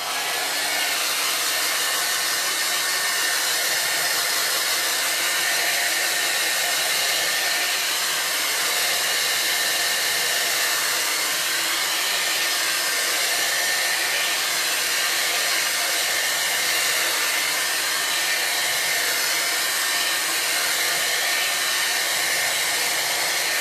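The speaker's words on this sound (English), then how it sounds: "And I'm going to use the blow dryer on it." A blow dryer runs steadily and loudly at close range, drying chalk paste on a DIY Halloween pumpkin transfer, a continuous broadband airy whoosh with no speech.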